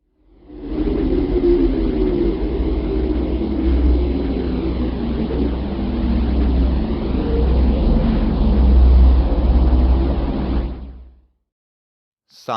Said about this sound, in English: Sound of Moon.